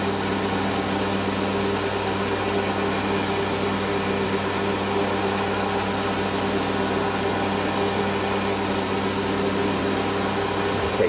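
A metal lathe running at 1400 RPM takes a light cut of about 0.8 mm a side on a small part for a Webster engine, giving a steady loud motor hum and whine with faint high cutting tones.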